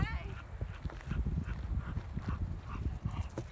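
A dog approaching during a walk around Magee, Mississippi, after Christmas: quick pattering steps and rough, bark-like bursts come through under people talking, fairly near and at moderate level.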